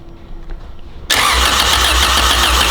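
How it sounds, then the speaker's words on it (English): A Honda CRX with a freshly swapped B18 engine cranks over: quiet background first, then a sudden loud start of steady, close mechanical churning that holds evenly to the end. "Crank her, get some oil moving in the engine."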